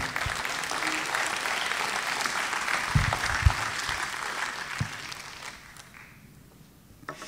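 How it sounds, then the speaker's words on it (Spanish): A church congregation applauds steadily with a few louder claps standing out, then the clapping fades away toward the end. "Un aplauso para el Señor."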